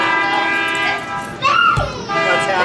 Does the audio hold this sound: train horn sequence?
yes